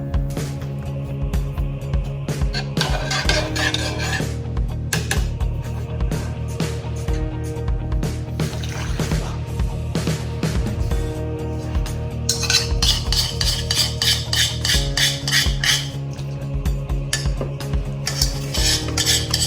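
Pizza dough ingredients being mixed in a bowl, busy scraping and clinking of a utensil against the bowl in uneven bursts, loud and close, with no talk.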